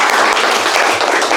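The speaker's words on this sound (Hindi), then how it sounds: "एक बार ताली।" Audience applause after a student's feedback at an AC and fridge PCB repair course, a dense steady wash of clapping lasting the whole moment, close and loud, with no talk over it.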